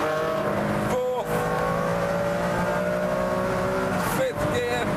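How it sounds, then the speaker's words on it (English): A Ferrari Enzo with 600 horsepower accelerates hard through its gears, the engine note rising steadily with brief dips at each upshift, loud and close over someone talking. "But now the car leaps out of that corner."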